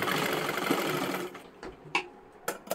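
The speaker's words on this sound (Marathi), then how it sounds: "हे पहा आता इथे जोडून घ्यायची आहे आणि डबल शिलाई देऊन घ्या" A sewing machine double-stitches a joined strip on a tucked blouse, running in a fast close whir for over a second, then stopping into a few short clicks and handling knocks.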